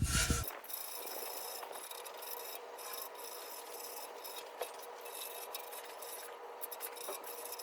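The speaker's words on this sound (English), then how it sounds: "just grab a wire brush, and we're just going to clean that up so it makes a nice clean surface for our putty to fit on" Wire brush scrubbing soot off a car muffler seam before patching, a continuous close rasping scrape with small uneven bumps in stroke intensity throughout.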